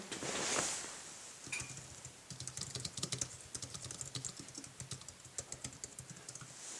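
Quick, light key taps clatter in an irregular run on an Apple iPad 2 keyboard dock, close and fairly quiet, with a brief soft thump near the start.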